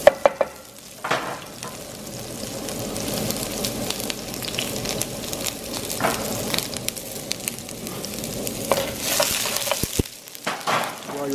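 Garlic hits hot olive oil in a frying pan for Levantine-style green beans: a close, steady sizzle with bursts of crackle and stirring scrapes, no one talking.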